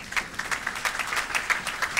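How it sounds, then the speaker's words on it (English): A church congregation claps, a dense patter of many hands with a roughly steady beat, moderately loud and continuous with no talk. "You may be seated with a clap offering, please."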